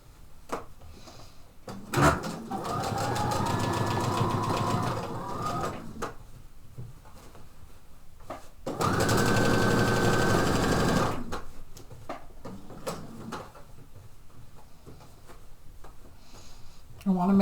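A sewing machine stitches a neckline on stretch velvet in two steady, close bursts of rapid whirring, separated by pauses with handling clicks and rustles.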